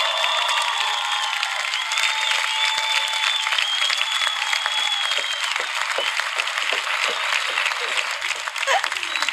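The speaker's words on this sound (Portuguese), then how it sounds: "um grande aplauso também" A live TV talent-show audience applauds after a performance of a song, with dense sustained clapping and cheering filling the hall, while a host speaks over it.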